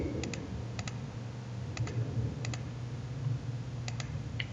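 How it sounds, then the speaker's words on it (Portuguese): Password keys tapped on a computer keyboard while setting up a Hikvision DDNS connection, a few sparse clicks in pairs over a low steady hum, close and fairly quiet. "vamos digitar a senha aqui"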